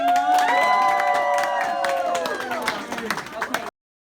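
An audience claps and cheers for Corps 51 at a PASA assembly, a loud burst of cheering and applause with voices shouting over it, fading out near the end before cutting off.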